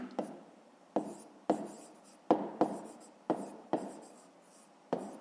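Handwriting on paper while working a grade-five maths exercise, a string of short scratchy pen strokes, each starting with a small tap, coming in a loose irregular rhythm at close range with no talk.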